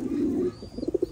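A Thai pigeon gives a low, throaty coo, first as one drawn-out note and then as a quick run of four or five short pulses, close and clear.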